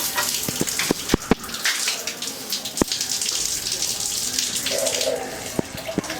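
Tap water runs steadily into a sink while an AC filter is washed, with scattered sharp plastic knocks and clatters over the continuous splashing flow.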